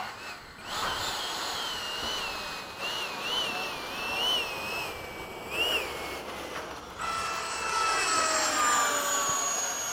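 A Freewing 80mm F-5 model jet with a ducted fan comes in to land, giving a steady, fairly loud whining roar whose pitch wobbles and dips with the throttle, then swells toward the end. No one speaks over it.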